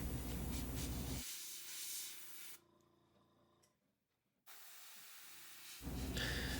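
An airbrush sprays blue paint over foam body armor, giving a steady breathy hiss that cuts out partway, leaves a quiet gap, then resumes at full strength.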